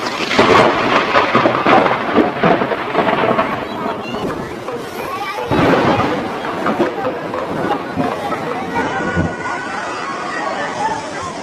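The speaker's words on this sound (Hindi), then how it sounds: "पंद्रह जून 2013 से केदारनाथ घाटी में भारी बारिश शुरू हो गई थी।" Heavy monsoon rain pours with rolling thunder in the Kedarnath valley in the Himalayas, a loud continuous roar of downpour with deep rumbling surges throughout.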